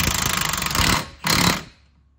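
Impact gun ramping up coil-over bolts on a Ford Fiesta: a rapid rattling hammer burst, a short pause, then a second shorter burst that winds down, loud and close with no talk.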